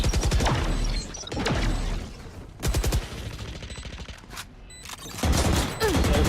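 Rapid gunfire in the video game Valorant, bursts of shots fired through a wall, loud and sharp in several volleys with short pauses between them.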